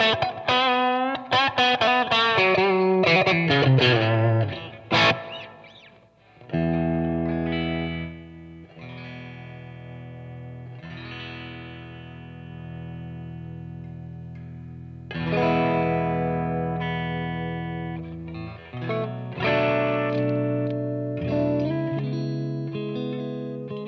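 Heavily overdriven electric guitar played through an amp on its high-gain cinders setting with reverb: fast distorted picking at first, then sustained ringing chords and notes that swell back in, loud and close, with no voices.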